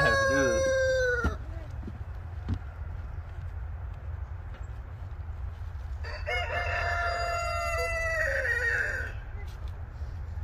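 A rooster crows loudly twice, nearby, with a long drawn-out call at the start and another several seconds later over steady background noise.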